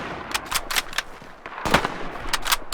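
Gunfire in the World War II shooter game Hell Let Loose, with a series of sharp, loud shots in quick irregular bursts, some nearer and louder, over a faint background rumble.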